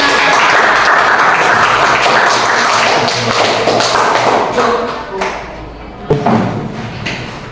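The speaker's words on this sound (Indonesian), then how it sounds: "Boleh tepuk tangan." Students in a classroom clap their hands together in a loud, dense burst that gradually thins and fades, with a few knocks and thuds near the end.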